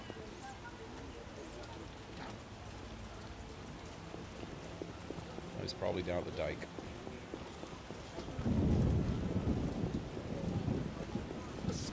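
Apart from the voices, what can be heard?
rain downpour with thunder in The Witcher video game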